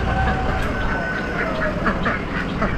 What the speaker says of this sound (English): Cool ducks.